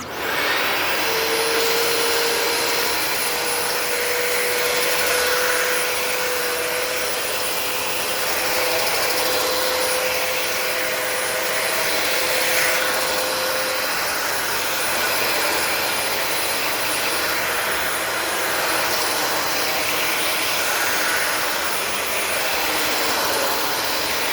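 Vacuum cleaner with a spinning dirt bin on a test run, a loud, steady, close motor roar with a high whine that holds unbroken for the whole stretch, without talk.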